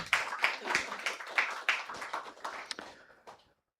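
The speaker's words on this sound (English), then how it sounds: "Let's give a round of applause to the team." A small audience at a poetry anniversary celebration claps for the team, a sparse patter of a few hands up close that thins out and stops after a few seconds.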